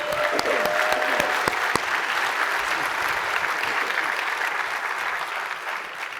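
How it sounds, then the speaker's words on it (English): Audience applause at a SXSW 2023 talk, a full, even roar of clapping from a large crowd, with a few sharp individual claps standing out at the start before it settles into a steady wash. "Let's clap for that."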